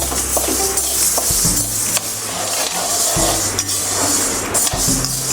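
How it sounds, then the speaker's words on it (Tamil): Green gram being dry-roasted in a kadai, with loud close scraping and clattering of a ladle against the metal pan, irregular strokes and knocks throughout, no voices. "காஞ்ச பிறகு பாசிப்பயிறு நம்ம சேர்த்துக்கிறோம். இதை நல்லா வாசம் வர மாதிரி வறுத்துக்கிறோம்."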